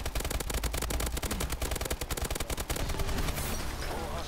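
Rapid, dense gunfire and explosive bursts from combat in Call of Duty: Advanced Warfare Exo Survival mode on the Drift map, including grenade launcher fire, sound loud and continuous, tapering into rumbling blasts at the end.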